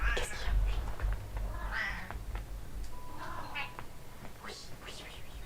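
A domestic cat meows several times in short, plaintive calls, close by and mixed with someone talking softly over steady low background hum.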